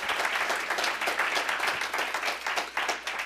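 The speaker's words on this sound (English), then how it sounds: "So please give a round of applause to Town Supervisor Dave Seeley." An audience at a New York State executive budget information meeting applauds Town Supervisor Dave Seeley, dense steady clapping from a crowd filling the room throughout.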